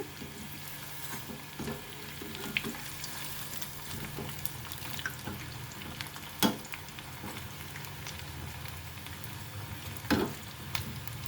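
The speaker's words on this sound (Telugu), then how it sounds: "మీడియం ఫ్లేమ్లో పెట్టుకుని వేగించుకోవాలి" Rice flour snack frying in oil in a small pan over medium flame, a quiet, steady bubbling sizzle with a few sharper pops and clinks close by, and no talking.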